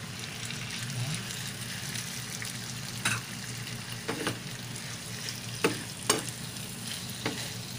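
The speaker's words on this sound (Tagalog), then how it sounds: "Yan guys, lagay na natin tong hipon." Shrimp fry with butter and garlic in a pan, a constant close sizzle punctuated by scattered spatula scrapes and clicks as the pan is stirred, without speech.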